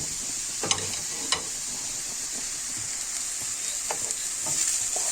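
Minced meat frying in ghee over lightly sautéed onion: a steady close sizzle and hiss broken by a couple of sharp spoon clinks and soft stirring scrapes, without talk.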